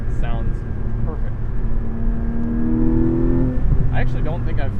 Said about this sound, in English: this one revs out just enough to you hear it and you go, ah, yes, that sounds perfect